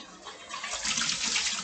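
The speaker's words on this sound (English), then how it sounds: "Just gonna rinse this so that it's not dust, too much dust." Water runs steadily from a tap as a cooking pot is rinsed, a continuous close splashing hiss that swells slightly partway through.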